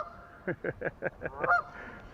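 A string of about seven honks from geese at a pond edge in a steady rhythm, nearby and fairly loud, ending in a higher squawk, as a dog chases them off.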